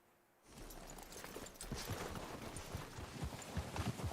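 Horse hooves clip-clopping in Red Dead Redemption 2, a steady quick patter of hoofbeats that starts abruptly after a moment of near quiet and carries on at moderate volume over a low rumbling background.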